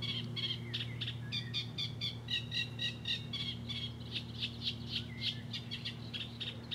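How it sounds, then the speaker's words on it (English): A reed bunting sings a rapid series of bright, repeated chirps over a low steady hum, the phrases coming in quick bursts. "Wonder if that's a reed bunting."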